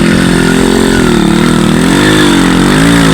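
Motorcycle engine droning and revving steadily on a muddy dirt road, loud and close, with pitch rising and falling as the rider works through the mud.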